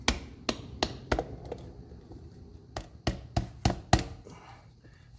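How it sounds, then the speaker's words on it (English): A fist thumps on a 4-inch PVC cap to knock a part in evenly during prep for an engine install in a 1969 Ford Econoline van: roughly a dozen sharp, close knocks in two irregular bursts, alone with no talk. "if I hit this thing straight in, well, it almost does it with my fist"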